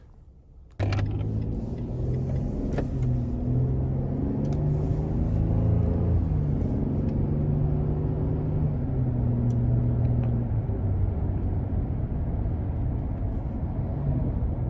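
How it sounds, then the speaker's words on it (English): A 2022 Nissan Frontier SV King Cab with a 9-speed transmission starts off on a road drive from the cabin, settling into a steady low engine and road rumble with a faint hum of tyres, no talking. "take this Frontier King Cab out on the road for a quick test drive"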